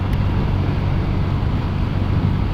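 Strong wind roars steadily over the microphone while riding a Honda Click 125i scooter near Tangub City, a dense, continuous low buffeting rush with no speech.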